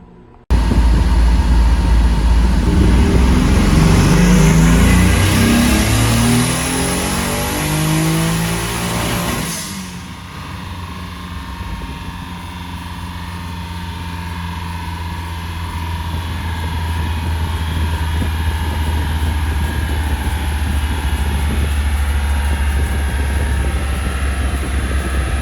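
A Nissan Z31 300ZX with a turbocharged VQ35DE engine revs hard and climbs in pitch with a turbo whine, then drops off and settles into a loud, steady drone.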